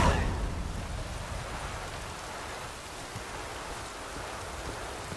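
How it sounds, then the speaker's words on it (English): Steady rain in The Witcher 3 falls as an even hiss of drops, constant and moderately loud, with no voices. "Rain again."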